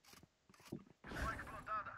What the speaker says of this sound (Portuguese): Recarregando.